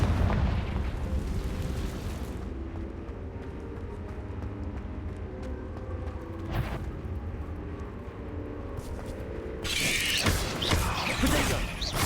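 A Confringo fire blast spell in the Hogwarts Legacy video game, with a loud rumbling, crackling roar that fades into lower mechanical rumble, then a fresh burst of bright blasting near the end.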